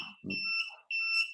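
An ultrasonic alarm lets out a short high electronic beep, one thin tone that breaks briefly and resumes, close and clean after a low soft knock.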